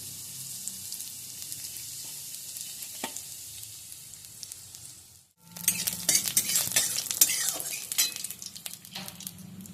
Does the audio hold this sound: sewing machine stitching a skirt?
no